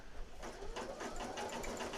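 An embroidery machine stitches a design on a straw beach item with a steady, pulsing mechanical hum and rapid needle ticks, close and continuous for two seconds.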